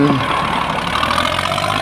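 A Nakano 35 hp tractor with a three-cylinder direct-injection diesel engine and a front dozer blade idles nearby, giving a steady, even mechanical rumble with no voices.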